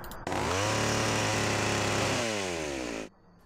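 A chainsaw runs loud and steady, revving up and then winding down before cutting off, played as a soundboard effect for the zombie board game Last Night on Earth.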